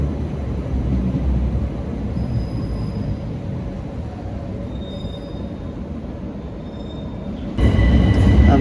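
A class 376 electric unit, 376004, pulls into a station on a service to Slade Green. It gives a low rumble of wheels with thin brake squeals, then a sudden louder burst of noise near the end.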